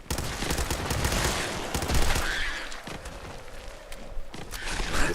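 Pipe rifle gunfire from Fallout 4 during combat against mole rats, with rapid bursts of sharp shots fired in quick succession, loud and close, alongside scattered thuds and footsteps.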